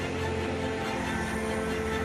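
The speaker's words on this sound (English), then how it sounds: "24 minutes after the Dreamliner was meant to leave, it's finally on its way" A Boeing Dreamliner airliner departing at Heathrow gives off a steady, loud, broadband engine roar with a constant whine, continuous throughout.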